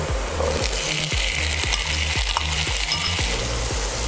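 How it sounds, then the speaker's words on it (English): Potato-and-pea vegetables sizzle in a pan of fried onion, a steady loud frying hiss broken by a regular series of sharp clicks from stirring or a spoon tapping the pan. "So now the onion is fried. What we'll do is we'll add the vegetable to it."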